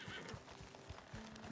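A horse in Red Dead Redemption 2 gives a faint whinny over soft hoof thuds and quiet game ambience.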